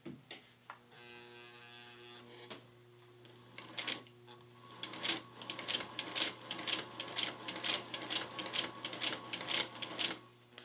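A sewing machine sews slowly through a leather patch with a long stitch, a close, quiet hum giving way to a quickening run of sharp, regular needle clicks.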